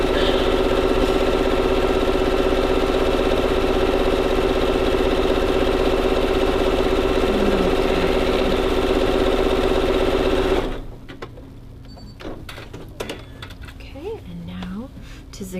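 Sewing machine stitching a zigzag seam on a simple skirt, a loud steady mechanical whir that runs continuously for about ten seconds and then stops abruptly, leaving quiet room sound.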